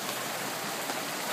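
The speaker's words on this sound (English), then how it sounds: "It is raining." Rain falls steadily beside a tidal river, a dense continuous broadband hiss with no distinct drops, loud and unbroken throughout.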